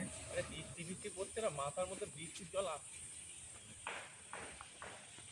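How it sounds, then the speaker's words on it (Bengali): A thin, continuous high-pitched drone of crickets in daytime hangs over a bamboo grove while a person talks in the foreground. "আর শুনতে পাচ্ছ বন্ধুরা, দিনের বেলাতেই কেমন ঝিঝি পোকা ডাকছে।"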